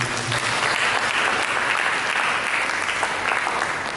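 A church congregation claps loudly and continuously, a thick wash of many hands held at an even level from start to finish, no speech on top.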